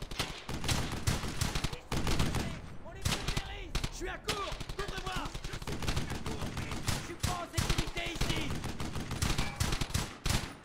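Dense machine-gun fire from the WWII shooter Brothers In Arms: Hell's Highway, with rapid overlapping bursts and scattered single shots rattling loudly and almost without pause across the whole stretch.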